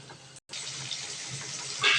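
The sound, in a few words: water poured into cooking curry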